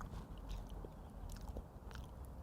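Someone bites into and chews hot roasted sweet potato as a winter snack, soft, close, muffled mastication sounds, faint and steady, with no talk.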